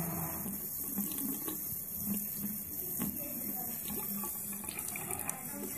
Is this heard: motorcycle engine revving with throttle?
no